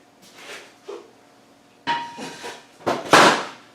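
Clunks and knocks as a car radiator is lifted out of a TDI engine bay and set on the floor, a few separate thuds growing louder toward the end.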